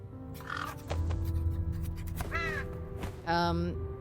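Crows caw in a gloomy, deserted high school in the True Fear horror game, giving two or three hoarse, drawn-out calls over a low ambient hum while someone talks in short bursts.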